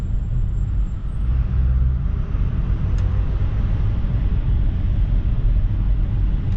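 Cars drive through a road tunnel, a constant deep rumble of traffic and engine noise echoing continuously, heard from inside a moving car.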